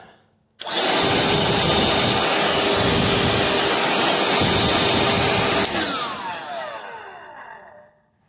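A Ridgid R860902B cordless wet/dry vacuum runs with a steady, loud motor whine and broad airy roar for about five seconds, then cuts off and winds down gradually, its pitch sliding lower as it fades.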